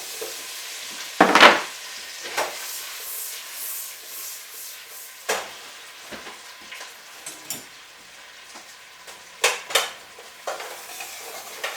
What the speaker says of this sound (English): Just going to saute them for a little while, because obviously, you know, a bit of colour on your spuds is always good